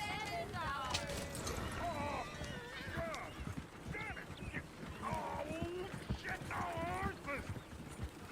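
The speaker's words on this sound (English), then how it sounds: "Damn horses!" Horse clip-clops and whinnies from the video game Red Dead Redemption 2 play under steady talk, with hoofbeats clattering and neighing calls rising over a busy background.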